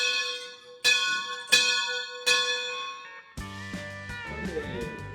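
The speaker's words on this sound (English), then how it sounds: "Duke currently has the victory bell, and we're gonna ring it." Duke's victory bell, rung indoors, gives four loud, ringing strikes about three-quarters of a second apart, each leaving a long sustained tone, then a heavier clanging burst with a deep hum.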